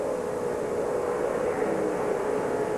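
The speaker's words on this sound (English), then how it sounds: "You can hear Jeff working the throttle right here." A NASCAR stock car engine at the 2007 Pepsi 400 at Daytona, the driver working the throttle: a steady, loud, continuous engine drone with a sustained tonal hum, fairly constant in level throughout.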